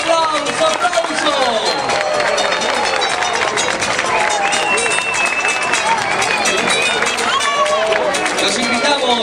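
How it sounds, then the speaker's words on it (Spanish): Large outdoor crowd applauding at the inauguration of the San Francisco de Asís bridge on the Godoy Cruz bike path in Mendoza, Argentina; dense, steady clapping fills the whole stretch with crowd murmur mixed in. "¡Aplauso, aplauso, aplauso!"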